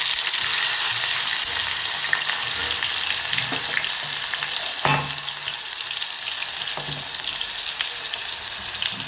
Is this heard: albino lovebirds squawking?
no